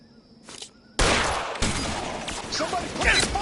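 Gunfire in the video game L.A. Noire: after a brief quiet hum, a sudden burst of dense overlapping shots erupts and continues as a loud, sustained fusillade with sharp cracks, with a voice faintly under it.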